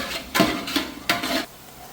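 Cumin seeds fry in oil for bagara rice, with a soft sizzle under three distinct scraping stirs of a utensil against the pan, close and fairly quiet.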